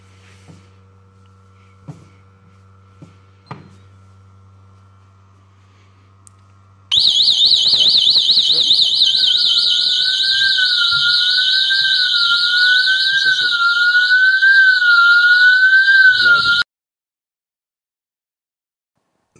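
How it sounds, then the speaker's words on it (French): Delta Dore home alarm system with indoor and outdoor sirens: after a few faint clicks, a loud piercing electronic wail starts abruptly and holds steady for about ten seconds, with a warbling tone joining partway, then cuts off sharply. "on a bien sirène intérieure et sirène extérieure qui sonne"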